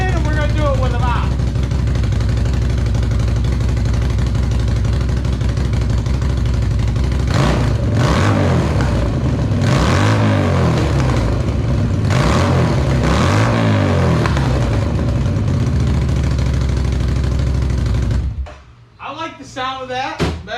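CFMOTO ZFORCE 800EX side-by-side with a DIY dual exhaust, baffles still in, idling loudly up close and then blipped through several revs that rise and fall, with a person talking near the end as the engine settles.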